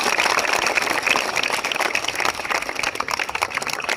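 Audience claps steadily for a police band's performance at a Police Raising Day week event at Kankavli police station, a dense, even patter of many hands throughout.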